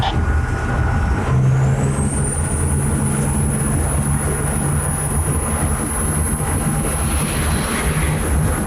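Cummins compound turbo diesel-swapped Chevy squarebody ramp truck accelerating hard, a loud constant engine roar with a turbo whistle climbing high and holding steady as the truck pulls.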